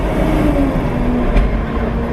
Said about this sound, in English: Trucks passing.